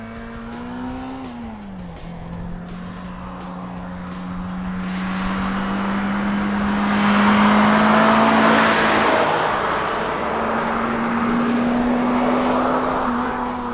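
A 2005 Pontiac Vibe GT driven hard through canyon roads, its engine holding a steady drone that climbs through revs with a gear change, joined by swelling tire and wind roar, recorded from inside, no talk.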